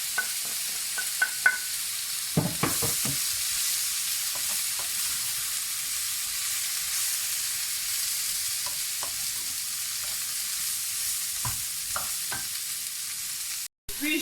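Garlic, onion and leek sizzling in a pan alongside cutlets and carrot, a steady close hiss with bursts of scraping and clatter from stirring, briefly cutting off near the end, no speech.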